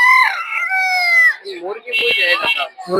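Chickens call at a busy poultry market in Tongi, with a drawn-out, crow-like cry rising and falling at close range, followed by shorter squawks, while people talk nearby.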